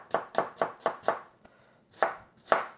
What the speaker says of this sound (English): by cutting the onions first